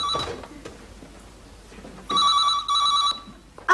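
An old-style telephone bell ringing indoors in a British sitcom home, two clear loud rings, one short burst near the start and then a longer double ring, with a quiet room between them.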